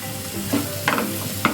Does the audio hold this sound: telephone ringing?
no